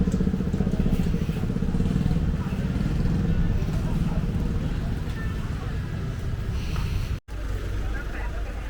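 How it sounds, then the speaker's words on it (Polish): Busy street traffic in Mae Sai, Thailand, near market stalls, with motorcycles and cars passing in a continuous close rumble and clatter, dropping out for a brief instant near the end. "Straszny tutaj ruch."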